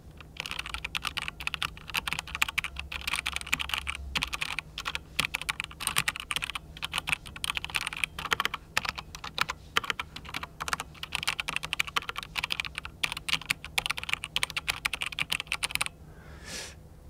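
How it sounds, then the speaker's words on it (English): Rapid, continuous typing on a Vigor GK41 mechanical keyboard, recorded very close to the keys. Dense clicky keystrokes run steadily for about sixteen seconds, then stop abruptly, with no talking. "And then I will do some fake typing."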